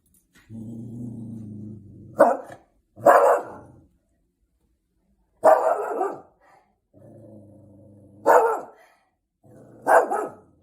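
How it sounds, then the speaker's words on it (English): A dog barks five times in sharp, loud bursts spaced a second or two apart, with a low, steady growl rumbling between the barks. "It is a dog barking."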